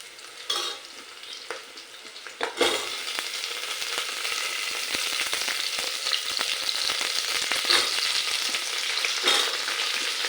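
Drumstick pieces (moringa pods) dropped into a hot oil tempering that has browned slightly, giving a steady broadband sizzle with stirring scrapes, loud and continuous after a brief burst of crackle.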